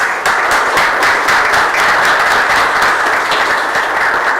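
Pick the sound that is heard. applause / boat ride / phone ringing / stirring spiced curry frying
applause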